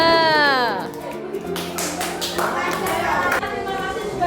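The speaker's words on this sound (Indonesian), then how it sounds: "Tepuk tangan untuk kelompok 2." A classroom of students claps together for group 2 after their presentation, a dense burst of hand claps mixed with voices and children's chatter throughout.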